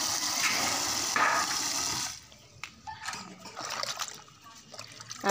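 Fish are washed by hand in water, first with a steady pouring, splashing rush, then quieter sloshing and dripping with scattered small splashes.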